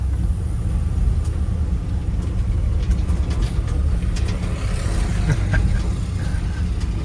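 An old, abandoned Ford F100 truck that has been brought back to life runs and drives, its engine rumbling loud and steady close by, with road and body rattle mixed in.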